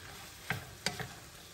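Shrimp curry in buttered sauce stirred in a pan, giving three quick scraping clacks of a utensil against the pan over a soft, steady sizzle of frying, with no voices.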